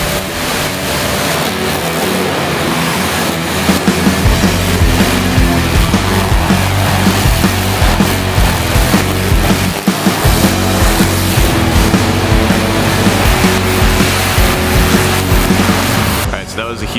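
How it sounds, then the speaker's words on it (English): Pressure washer fitted with a turbo nozzle rinsing mud off a Polaris quad, a loud steady hissing spray that runs close and unbroken before cutting off at the very end. "I'm gonna hit this thing down with a turbo nozzle real quick"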